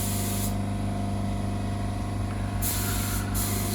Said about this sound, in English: we've been out and bought a couple of new spray guns